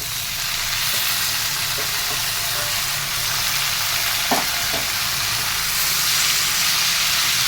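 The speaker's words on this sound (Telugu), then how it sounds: "ఇప్పుడే టమాటా కూడా వేసేద్దామండి." Tomatoes go into a hot pan of drumstick curry with salt, setting off a loud, steady sizzle and frying hiss. A few soft clinks of stirring come through near the middle, with no talking.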